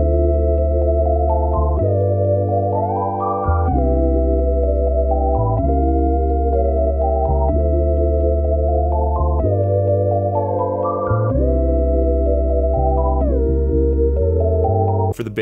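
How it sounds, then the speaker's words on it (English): Rickenbacker bass guitar sample instrument in Kontakt, playing a steady repeating line of deep sustained notes in a bedroom pop track, with higher keyboard-like chords sliding above it, loud and clean with no talking. "For the bass, I used the Scarby Rickenbacker bass out of Contact."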